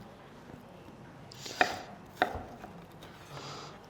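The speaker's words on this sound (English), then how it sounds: "we're gonna cube these up so we can get some nice sear on them" A sharp knife cuts steak into cubes on a board: two crisp, distinct chops about half a second apart, close and fairly quiet against a soft background hush.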